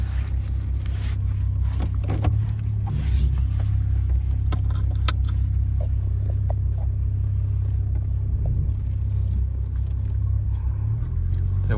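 Low, steady engine rumble inside the cabin of a tunable 2020 Toyota Supra running E85, continuous and close, with faint higher clicks and rustles above it.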